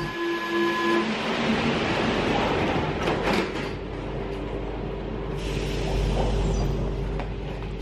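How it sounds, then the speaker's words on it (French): A metro train runs through an underground subway station in a steady, loud rumble and rolling roar, with a brief tonal whine and hum at the start and some metallic clanks partway through. "J'éprouve une certaine fascination à filmer dans le métro"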